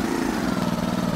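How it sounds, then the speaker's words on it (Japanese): A small single-cylinder 150cc motorcycle engine in a video game idles with a steady, throbbing low putter, close and even for a brief moment. "150cc シングルなんで、シングルのちゃんとエンジン音になってますね"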